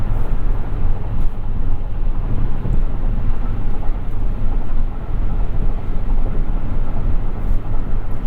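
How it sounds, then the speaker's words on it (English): A 2021 Toyota Venza cruising on the highway, giving a steady, loud broadband rush of road and wind noise with a low rumble, constant throughout and free of speech. "let's get a quick moment of highway driving here in the Venza."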